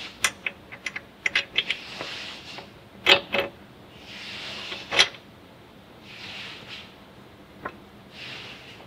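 Metal clicks and ratcheting as a tool works the top bolt on a Victory High Ball motorcycle during an air ride suspension install, a cluster of sharp taps early, then a few louder scraping bursts spaced apart, fairly quiet and with no talk.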